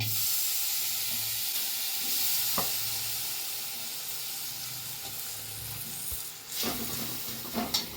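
Jaggery and ground amla cook in a pan for a homemade cold-remedy toffee, giving a steady close sizzle and hiss with occasional stirring scrapes and clinks throughout.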